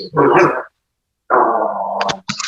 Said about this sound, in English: You guys hear these dogs?